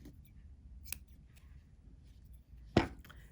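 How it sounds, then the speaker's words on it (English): Scissors snip a small piece of wool roving, a faint light snip followed by one sharp, close, crisp cut in an otherwise quiet room. "Then I want to cut a little piece of roving."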